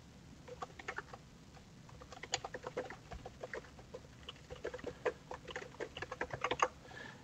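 Someone types on a computer keyboard, light uneven bursts of key clicks at close range, quiet and without speech.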